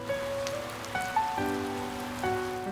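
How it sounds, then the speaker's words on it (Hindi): Heavy rain falls outside as a steady, even hiss of drops on surfaces, with soft sustained tones drifting over it. "बाहर जोरदार बारिश हो रही थी।"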